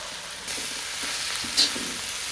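Cauliflower fried rice with soy and chili sauces sizzles steadily in a pan while being stirred, a soft continuous fry with light scraping.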